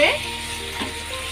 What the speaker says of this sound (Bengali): দিয়ে ভালো করে নাড়াচাড়া করে